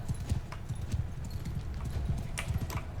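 Horse hooves clip-clop steadily on the ground in the medieval battle game Bannerlord 2, a quick rhythmic patter of hoofbeats at moderate distance over faint background ambience.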